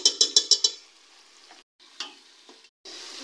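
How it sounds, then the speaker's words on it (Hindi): Tikka masala spice mix with a little water being roasted and stirred in a pan: five quick scraping stir strokes, then softer sizzling broken by a couple of further stirs and short pauses. "इसके अंदर 1 चम्मच ये टिक्का मसाला डाल दें और इसको भी भून लें।"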